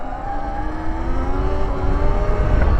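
A Sur Ron electric dirt bike at around 70 km/h gives a steady rising motor whine layered over rushing wind and tire roar, close and continuous throughout.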